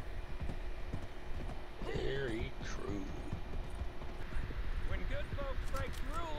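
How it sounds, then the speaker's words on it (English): Horse hooves clip-clop at a steady pace in Red Dead Redemption 2 Online, a fairly faint rhythmic patter running under a man's speech, with occasional other game sounds. "No, we can't jump this horse, sadly."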